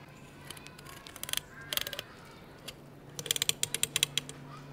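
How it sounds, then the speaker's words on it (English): A knife presses down through the spine bones of a large lingcod, producing clusters of sharp, close crackling clicks in quick bursts separated by short pauses. "And now I'm going all the way into the spine, keeping that pressure downwards, making sure I can hear those bones."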